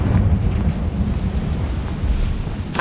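A fiery Confringo blast spell from the Hogwarts Legacy video game, a continuous deep rumbling roar that stays loud for the whole stretch, with a sharp crackle at the very end.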